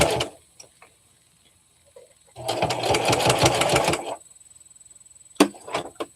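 A sewing machine runs in a steady burst of rapid, even stitching for under two seconds between quiet pauses and fabric handling, recorded close.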